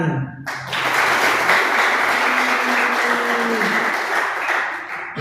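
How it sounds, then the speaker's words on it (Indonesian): Children clapping together during a lesson, a dense, loud burst of applause that starts abruptly and holds steady for several seconds. "Coba tepuk tangan."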